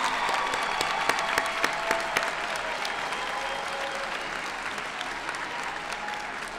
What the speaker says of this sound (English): allow us to honor you with our applause for your support